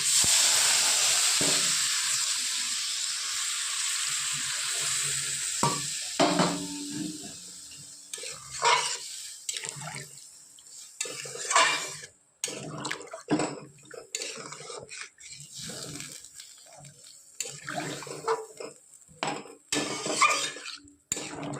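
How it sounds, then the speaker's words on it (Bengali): Water goes into a pan of browned spices for a rui fish curry with data and potatoes, starting as a steady steamy hiss that fades into scattered clatters and stirring knocks against the pot. "ভালো করে কষানোর পর এবার দিয়ে দেবো আমি জল।"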